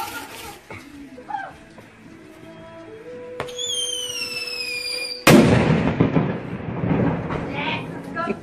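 Firecrackers and a ball bomb go off: scattered early pops and rising whistles, then a sharp loud blast followed by a rapid crackling chain of bangs. Voices can be heard under the noise.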